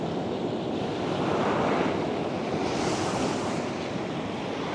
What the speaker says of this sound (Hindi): बहुत दूर से लहरें उठ रही है और यहाँ किनारे तक पहुँच रही है